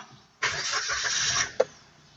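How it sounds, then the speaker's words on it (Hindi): A Maruti Suzuki Baleno, five years old, starts up: a short cranking burst catches into a smooth, quiet engine note that holds for about a second, then a brief sharp click at the end. "मैं करता हूँ गाड़ी स्टार्ट।"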